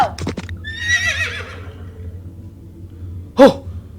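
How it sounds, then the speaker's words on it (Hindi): Horses of a mounted army approach with a clear whinny near the start, then quiet low rumble and a sharp snort or neigh burst near the end. "घोड़े पर फौज आ रहा है"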